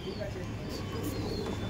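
Madras pigeons coo softly in a loft, with low, repeated cooing murmurs running under someone speaking nearby.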